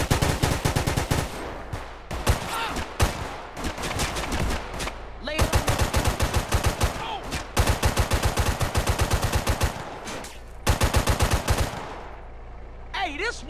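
Rapid automatic gunfire in the GTA San Andreas video game, loud bursts of repeated shots separated by short pauses, continuing across the whole span.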